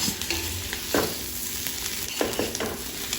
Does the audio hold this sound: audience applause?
no